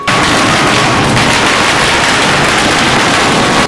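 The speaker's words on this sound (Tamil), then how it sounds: "பட்டாசு படபடவென தெரிக்கிறது." Firecrackers crackling at a Prasanna Venkatesa Perumal temple festival procession, a dense, continuous rapid burst, loud and close, with no voices.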